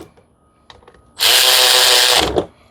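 A Milwaukee power tool whirs loudly for about a second, rising sharply, holding steady and then spinning down, after a few faint knocks and with no talk over it.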